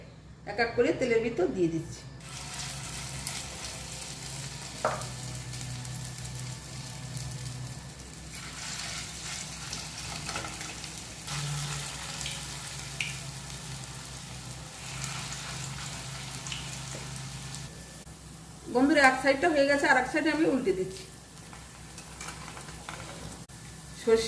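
Mustard flower fritters sizzle in hot mustard oil in a pan, a steady crackling fry that runs throughout, with someone talking over it at the start and again near the end.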